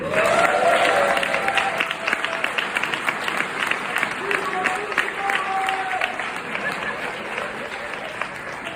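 Sustained applause from a large crowd at an annual benefit program fills the space, with scattered cheers and voices mixed in, gradually easing off.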